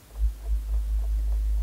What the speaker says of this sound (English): suddenly woken up by a low humming sound